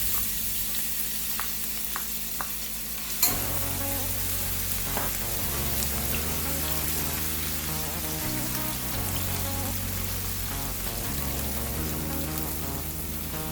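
Chopped onions frying in hot oil in a pan, a steady close sizzle that builds after a sharp start and holds throughout with faint stirring scrapes.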